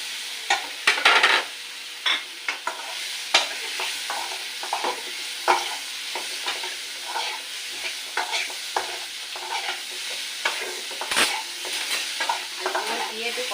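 Potatoes dropped into a pan with chilli powder and green chillies, frying with a soft steady sizzle while a spoon clatters and scrapes in sharp, irregular stirs up close.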